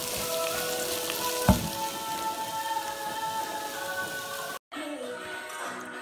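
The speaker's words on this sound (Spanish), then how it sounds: "Mezclamos el arroz y dejamos que vaya tomando gusto, removemos" Rice is stirred and toasted in a pan for a mushroom and Iberian pork risotto, giving a dense, close rain-like sizzle with a single spoon knock midway and a brief cut near the end.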